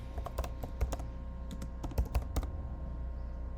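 Typing on a computer keyboard while writing test code for an API booking endpoint, with a quick run of crisp key clicks in short bursts, close and clear, with no talking.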